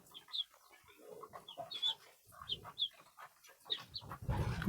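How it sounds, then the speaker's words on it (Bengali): A chicken clucks in short, repeated bursts nearby in a pigeon coop at feeding time, with soft scuffling and a louder rustle at the end. "একটা মুরগি চলে আসে"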